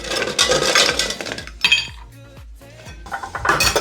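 Ice cubes clatter and clink into a glass while making an alcohol-free mocktail, a quick run of sharp knocks and rattles up close, settling into a few scattered clinks with no talking.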